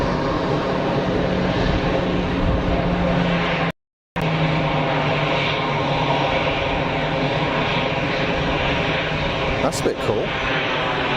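An Embraer Tucano propeller aircraft at Geneva Airport gives a loud, continuous engine drone with a steady low hum, broken by one brief dropout, while people talk nearby.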